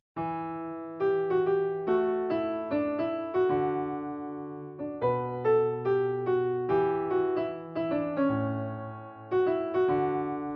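A solo keyboard plays the verse melody of a football anthem in a lilting, skipping, swung rhythm, clear and moderately loud, with no one speaking.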